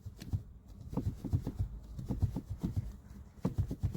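Rattling from a half-open power window on a Tata Altroz DCA, a soft irregular stream of light taps and rubbing knocks, fairly quiet and close, continuous throughout with no talk.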